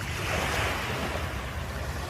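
Pacific Ocean waves lap and wash steadily against the shore of Bohol island in the Philippines at sunset, a continuous broadband surf roar with some wind noise across the microphone and no talking.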